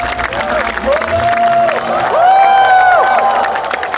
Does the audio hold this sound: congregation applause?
yes